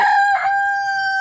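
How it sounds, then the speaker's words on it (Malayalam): A rooster at a village home crows one loud, close, sustained cock-a-doodle-doo call with bright harmonic tones, heard alone. "സംസാരിക്കുന്ന കേട്ട് കഴിഞ്ഞാൽ കൂവുന്ന കോഴി ഉണ്ടെങ്കിൽ അതെൻ്റെ വീട്ടിലുണ്ട്"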